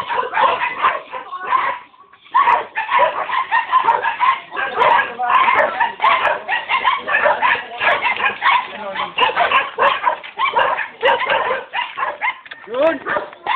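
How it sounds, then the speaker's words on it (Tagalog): A big litter of puppies yips, barks and whimpers almost without pause, loud and close, while people talk among them. "Ang daming tuta."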